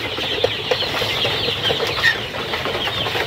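Chickens cluck softly in a coop beside a village pond, scattered short clucks and a few wing flaps over a steady hiss of outdoor background, moderately near and continuous.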